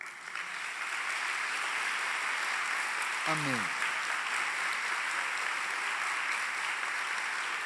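A church congregation applauds steadily during a sermon, a continuous wash of clapping from many people, with a single voice briefly speaking over it.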